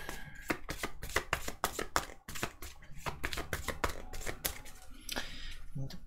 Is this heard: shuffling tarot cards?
yes